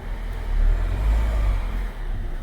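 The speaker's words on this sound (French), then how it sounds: "Maintenant on sort le véhicule." A Peugeot 207 HDi diesel car pulls out of a workshop with a close, steady low engine rumble that swells slightly as it moves, and no talk over it.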